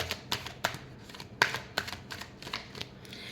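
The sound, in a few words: tarot cards being shuffled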